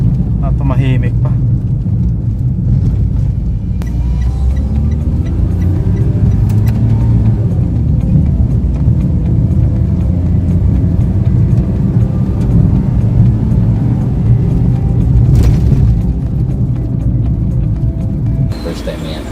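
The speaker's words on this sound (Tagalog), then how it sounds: "Tumahimik pa yung makina yan." A 2020 Toyota Wigo car engine runs after Wonderlube treatment, a loud, steady low rumble inside the car with slight rises in revs, while people talk over it throughout.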